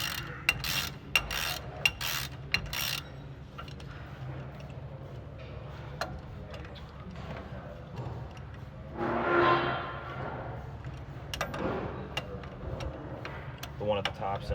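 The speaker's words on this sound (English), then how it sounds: "you want to take your 19 millimeter and you want to loosen the 2 bolts holding the caliper in place" A 19 mm ratchet loosens the brake caliper bolts on a 2008 Ford Ranger's front brakes. Bursts of sharp close ratchet clicking come in stretches, with a person talking over parts of them.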